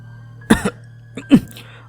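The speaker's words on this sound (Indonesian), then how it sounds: "setelah batuknya menghilang" A woman coughs twice after drinking water, two close, throaty bursts about a second apart over a low steady hum.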